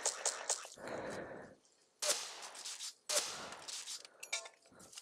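Gunshots from a gun with the XFrostByteX skin in the video game Ace of Spades, sharp bursts fired in several clusters separated by brief gaps, loud and close with a few lingering tails.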